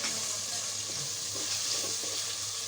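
Tomatoes dropped into hot oil with frying spices, a steady soft sizzle and hiss throughout, fairly quiet and even with no talking.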